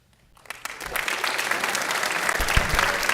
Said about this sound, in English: Let's give Moshe another round of applause.